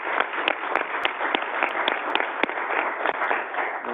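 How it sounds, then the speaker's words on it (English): Welcoming round of applause from attendees at a regional council board of directors meeting, steady clapping from a modest group with distinct individual claps standing out, no speech over it. "it seems like it would be appropriate to also give him a welcoming round of applause"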